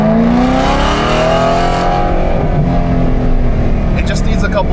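A BMW E92 M3 engine with modified exhaust drones loudly and steadily on a race track, a rising and falling exhaust note, close and continuous, echoing slightly off a wall, without talk.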